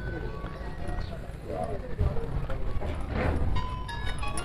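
A horse's hooves clip-clop at a busy horse market in Tandla, irregular thuds underneath nearly constant nearby talking and crowd noise.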